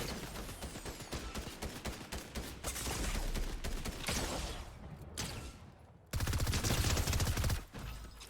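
Fortnite shotgun blasts and other gunfire in a busy firefight, sharp loud bursts in quick succession with a heavy boom late on, dense and close, no speech.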